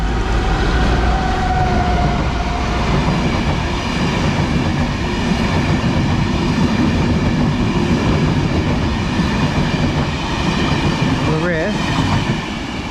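A train on the Newry to Belfast line in Northern Ireland, headed into Belfast Central, rumbles past close by as a steady, loud wash of wheel and engine noise with a brief squeal near the end.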